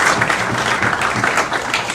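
A crowd claps loudly and steadily throughout, a continuous wash of applause with no breaks.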